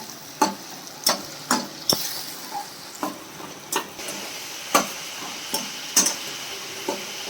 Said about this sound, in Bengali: লো টু মিডিয়াম আঁচে পেঁয়াজ বাটাটা কষিয়ে নেব।